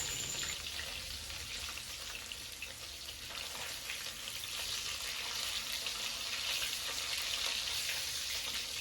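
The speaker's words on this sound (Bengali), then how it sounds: "ওইদিকে মাছ ভাজা হচ্ছে" Snakehead fish (shol) frying in a pan of oil gives a soft, steady hissing sizzle that holds throughout and is fairly faint. No one talks.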